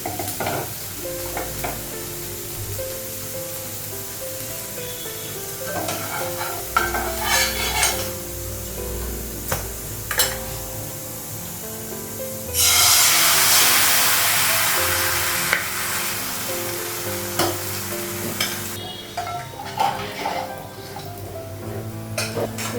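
Spices sizzle in hot oil, tempering dal, with clattering stirring against a pan, then a loud burst of hissing that settles back into intermittent scraping.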